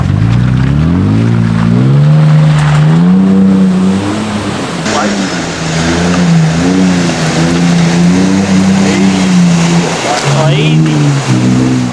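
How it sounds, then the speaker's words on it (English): A Toyota Prado 4WD works through an off-road obstacle, its engine loud and close as it revs up and down in repeated surges over a churning, rumbling background. "Time to see if the mighty Prado can make it through."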